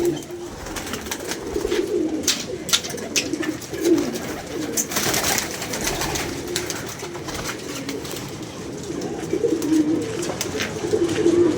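Pigeons coo again and again, low and throaty, with overlapping calls and a few sharp clatters through a steady background.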